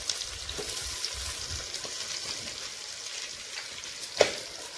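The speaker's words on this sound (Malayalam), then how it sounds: "നന്നായിട്ടൊന്ന് ഇളക്കി കറക്റ്റ് ചെയ്ത് മൊത്തത്തിൽ ഒന്ന് ഇളക്കി ഒന്ന് വഴറ്റിയെടുക്കണം" Chopped shallots and chillies sautéing in hot oil, a soft steady sizzle with occasional low stirring thumps and one sharp clink near the end, no talking.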